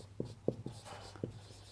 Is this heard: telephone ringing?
no